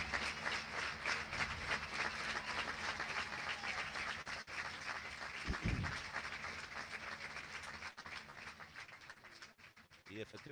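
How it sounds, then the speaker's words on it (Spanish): A football stadium crowd applauds during a Copa del Rey match between U.D. Barbastro and FC Barcelona, a distant, sustained wash of clapping and crowd noise under a commentator's voice. "Aplaude el municipal"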